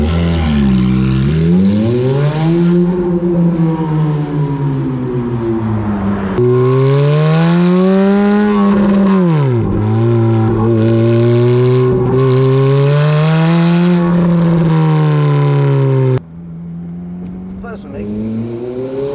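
A Ferrari F430 Spider with a manual gearbox revs hard, its engine note rising and falling in loud, close sweeps through several gear changes, then dropping away to a quieter idle near the end.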